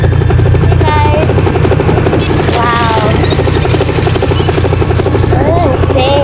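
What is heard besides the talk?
helicopter hovering overhead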